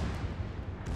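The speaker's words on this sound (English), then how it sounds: "And I'm going to have to take the return shot." Naval gunfire hits land in World of Warships, a dense, low, rumbling boom that fills the whole moment without a break, with no talk over it.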